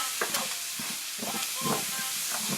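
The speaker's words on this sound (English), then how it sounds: "I'm going to get my onion in there." Onion goes into a hot pan and sizzles in short, close, uneven bursts over a soft hiss, as pieces are moved or stirred.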